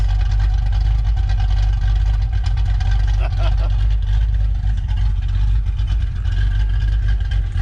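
A 1979 Fox body Mustang Pace Car with a chop cam and turn-down exhaust, running with a loud, steady, deep engine rumble up close and a faint voice underneath.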